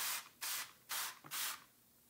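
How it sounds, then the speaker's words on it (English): Hydrogen peroxide sprayed from a pump bottle onto orchid roots: four short hissing bursts in steady rhythm, close and clear, with no talk. "I'm going to spray the roots down with some hydrogen peroxide"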